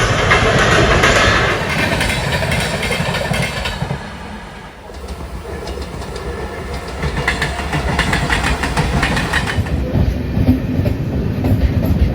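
Loud, continuous rumble of the Diva–Sawantwadi Express passenger train running on the Konkan Railway tracks, with rhythmic rattling of carriages that dips briefly and then builds again.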